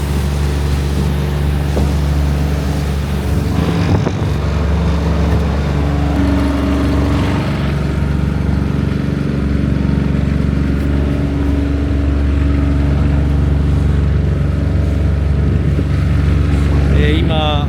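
A fishing boat motors toward the fishing grounds before dawn, its engine a steady, loud drone with wind and water noise throughout, and a voice speaking briefly over it.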